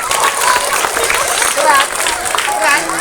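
Schoolchildren at an Islamic primary school clap together in a dense, steady burst of applause that continues throughout, with their voices mixed into the noise.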